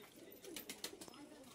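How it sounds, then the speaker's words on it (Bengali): Pigeons cooing close by, soft low repeated coos with faint rustling and a little background noise. "তো এই কবুতরগুলো দেখাচ্ছি"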